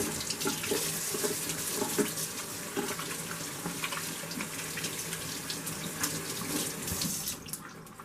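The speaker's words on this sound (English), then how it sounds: "let me wash my hands before I handle my salt and pepper" Steady tap water runs into a kitchen sink as hands are washed before handling salt and pepper for an old-fashioned chuck roast pot roast, a continuous close splashing stream with no talk.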